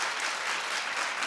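A television talk-show studio audience claps in a brief, dense burst, loud and continuous with no voices over it.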